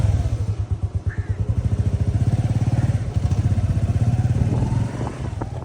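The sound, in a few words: motorcycle taxi arriving to pick up rider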